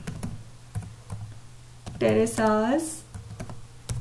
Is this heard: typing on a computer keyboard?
yes